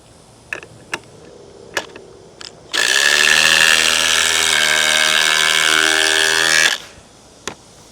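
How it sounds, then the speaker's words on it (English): A DeWalt impact driver driving a lag screw, a loud continuous rattling hammer burst lasting about four seconds, preceded and followed by a few sharp clicks and knocks. "I'm gonna drive this lag with the DeWalt first."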